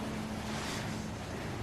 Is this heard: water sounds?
yes